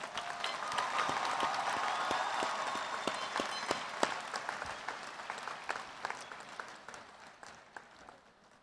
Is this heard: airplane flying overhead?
no